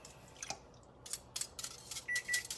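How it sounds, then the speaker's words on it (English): A kitchen timer for roasting broccoli gives a few faint, short beeps near the end, with soft, scattered kitchen clatter before them. "that is our timer for our broccoli"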